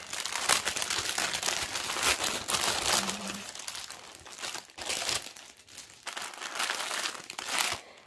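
Plastic wrapping on a cross-stitch kit crinkles and crackles steadily as it is pulled open, close and fairly loud, with brief pauses between bursts of rustling.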